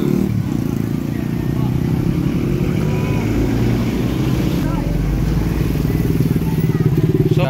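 A motorcycle exhaust rumbles loudly and continuously up close at nose height in a crowded street, a low steady engine drone with people talking over it.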